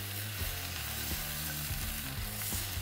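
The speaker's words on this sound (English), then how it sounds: "Next, we're going to add our garlic. Let's give that a good stir." Garlic and tomatoes sizzle loudly in a pan for birria, a close, constant hiss broken by low rhythmic scrapes of a spoon being stirred through the vegetables.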